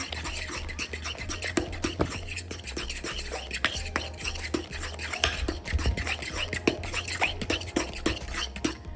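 Egg being stirred into cottage cheese in a bowl for baked ziti, a steady close scraping and clicking of a utensil against the dish that runs without a break, with a low hum beneath.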